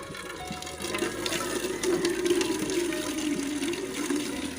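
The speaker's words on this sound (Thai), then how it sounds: "โอ้เสียงดังขนาดเลยเสียงน้ำตกสิคุ" A loud waterfall roars in a steady, dense rush of water that stays close and constant throughout, with no voices over it.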